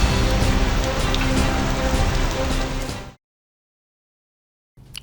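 Heavy monsoon rain pours down in Himachal Pradesh, a loud, dense, continuous hiss that cuts off abruptly after three seconds, followed by silence and then a brief return of the rain.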